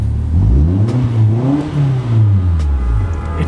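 Nissan car engine revving hard while driving, its pitch rising and falling in repeated surges with a loud, close, throaty drone and no talk over it.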